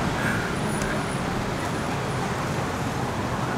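Steady road traffic on a Bangkok street, a continuous broad roar of passing cars and other vehicles that holds at an even level throughout, with no clear single pass-by standing out.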